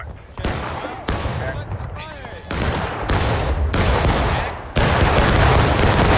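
Rifle volleys ring out in a video game battle on a riverbank near Burnside's Bridge, a series of loud, sharp bursts of massed gunfire crackling one after another with a rolling echo, and faint voices talking underneath.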